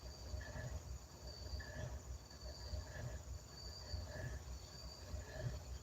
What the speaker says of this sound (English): I have never heard a train make that noise before.